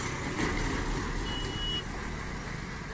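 A BS6 red state transport bus arrives at a busy Pandharpur stand, its steady engine rumble and road noise filling the air, with a brief high beep partway through.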